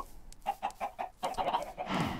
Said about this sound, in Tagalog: May nakataas na manok. Patayin natin.